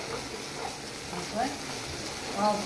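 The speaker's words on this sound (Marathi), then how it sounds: "मिडियम सायज कांदो चिरला हांवें फोडणेक मध्ये, बरें फ्राय करून घेवपाचें." A chopped medium onion fries in hot tempering oil for a Goan mushroom xacuti, giving a steady, soft, hissing sizzle throughout while someone talks over it.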